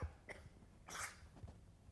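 A single short, sharp sneeze up close, followed by a faint breath and small rustles in an otherwise quiet room.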